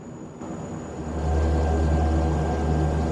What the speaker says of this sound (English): I love the way they have the sounds in this airplane.